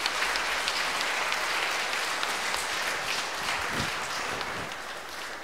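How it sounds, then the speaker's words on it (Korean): Sustained applause from a church congregation at a Catholic parish award ceremony fills the space, dense steady clapping that carries on evenly and eases off slightly toward the end. "큰 박수 부탁드리겠습니다."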